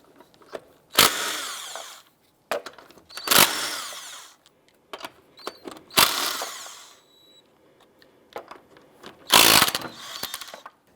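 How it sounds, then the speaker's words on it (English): A power impact tool fires in several loud, short bursts with gaps between them, loosening the lug nuts on a 2001-2005 Honda Civic wheel with a 19mm socket, with clatter and handling noises in the pauses. "Using a 19mm socket, let's go ahead and remove our lug nuts."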